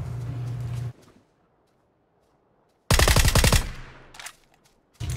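Automatic gunfire in PUBG, a loud rapid burst of closely spaced shots after a brief silence, then a fading tail and another burst starting at the end, no speech.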